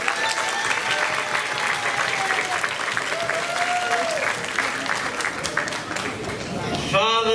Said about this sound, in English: Everybody give Father Williams a round of applause.